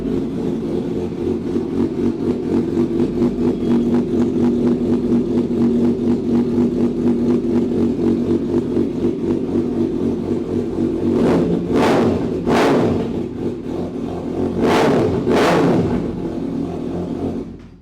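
A Kawasaki ZX-6R inline-four motorcycle with a replica custom exhaust idles loudly and close with a steady, burbling rumble, then is blipped in several sharp rising revs near the end.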